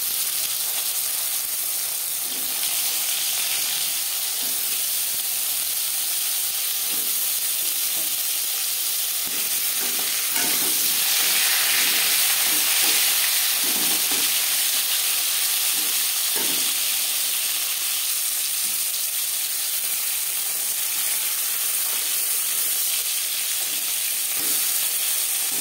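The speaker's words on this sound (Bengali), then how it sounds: "আমি পটল ভাজবো রিফাইন্ড অয়েলে" Pointed gourd (potol) slices frying in hot refined oil, a steady close sizzle and hiss with occasional soft pops and stirring clinks throughout.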